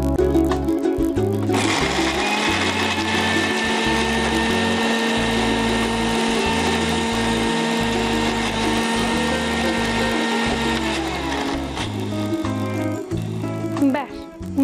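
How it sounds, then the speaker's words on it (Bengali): A blender grinds a thick spice paste with no water added, a loud continuous whirring motor churning for most of the stretch, starting and stopping in bursts near the beginning and end. "এবার এটাকে ব্লেন্ড করব"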